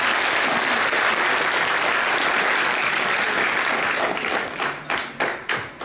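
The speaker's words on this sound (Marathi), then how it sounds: "प्रथमतः ह्या तिघींसाठी आपण जोरदार एकदा टाळ्या वाजवू." Loud, dense applause from an audience at a student counselling event for a copy-free 12th-grade board exam campaign; it holds steady, then breaks into scattered, fading claps.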